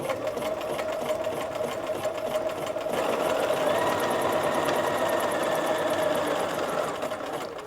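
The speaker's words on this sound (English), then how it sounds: "I'm going to roll my needle down and just start stitching, making sure everything is lined up" A sewing machine runs steadily as it stitches knit dress fabric, a continuous close whirring hum with a fast regular needle rhythm that holds for several seconds without speech.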